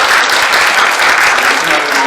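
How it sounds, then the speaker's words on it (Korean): A church congregation claps together after a Sunday service event, producing loud, dense, sustained applause close by for the whole stretch. "같이 박수"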